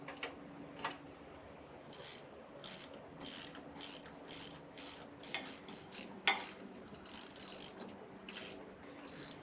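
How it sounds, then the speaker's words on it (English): A 3/4 inch socket on a ratchet wrench snugs down bolts on the steering stabilizer brackets of a 2019 Holiday Rambler motorhome. Short, close bursts of rapid clicking repeat throughout, with no voices. "We'll snug these down using a 3/4 inch socket and wrench."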